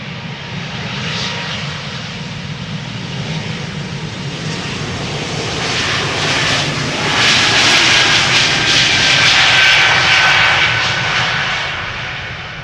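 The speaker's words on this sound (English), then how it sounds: "Air Baltic taking off already." An Air Baltic airliner takes off at Amsterdam Schiphol, its engines a steady loud roar that swells to a peak and then starts to ease, with no talking.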